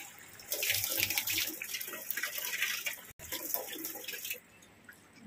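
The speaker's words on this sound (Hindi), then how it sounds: "पानी भरती हूँ, कोई नहीं है पानी भरने के लिए" Water gushing from a pipe into a household air cooler in an Indian home, a steady splashing hiss that carries on for several seconds, then drops lower near the end as the flow changes.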